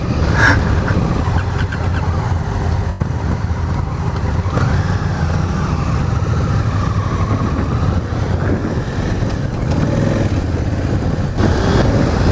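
Honda Africa Twin adventure motorcycle riding off-road with ABS off and traction control on, its engine a steady loud drone smeared with heavy wind buffeting across the whole stretch.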